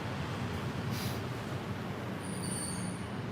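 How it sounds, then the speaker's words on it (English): Bangkok SkyTrain passing nearby, a steady loud rumble of rail cars with high metallic wheel squeals rising briefly near the start and again toward the end, no voices. "SkyTrain."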